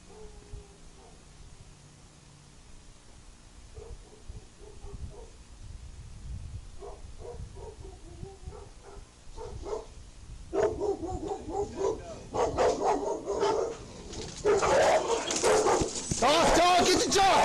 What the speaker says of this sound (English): Dog, get the dog! Get the dog!